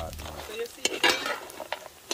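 Boiled food frying in a pan while cooking brunch at a riverside, heard as a soft sizzle broken by stirring scrapes and clinks, fairly quiet and close with no talking.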